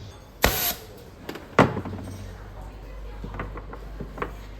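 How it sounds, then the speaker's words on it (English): An Ultra Clean UC-EL7 economy launcher fires a cleaning projectile through a hose: two sharp close pops or thumps, followed by a low rumbling hiss and faint small clicks. "Now we shoot another projectile, and we shoot from the other side of the hose."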